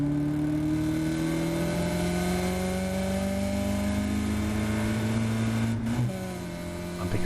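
Caterham race car engine at Silverstone, a loud steady drone with pitch slowly climbing under acceleration, then a brief drop as the revs fall near the end, heard from on board.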